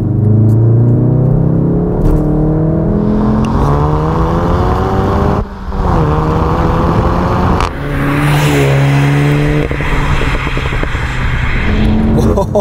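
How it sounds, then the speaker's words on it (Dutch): A Volkswagen Golf GTI Clubsport S four-cylinder engine with thicker exhaust tips revs and rumbles loudly through its exhaust, rising and falling in pitch, with a brief drop in the middle. "Hij heeft dikkere uitlaat eindstukken."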